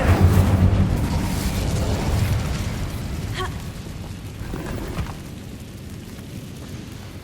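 Incendio fire spell cast in Hogwarts Legacy, a loud whooshing burst that rumbles and fades over several seconds, with a couple of softer crackling hits later.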